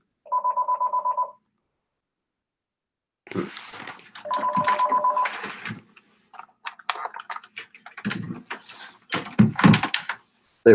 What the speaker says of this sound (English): my office phone starts to go crazy once it hits 9 o'clock